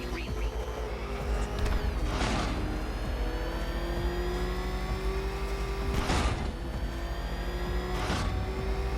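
The Batmobile's engine hums and drones steadily in Batman: Arkham Knight, with a sustained rising tone. A few sharp bursts and impacts punctuate it, all moderately loud and continuous.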